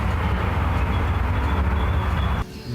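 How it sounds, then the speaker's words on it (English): Loud, steady rumble of a passing train on tracks running through a property, close by, cutting off abruptly near the end into quieter ambience. "Sorry, I don't know if you can hear me over the train."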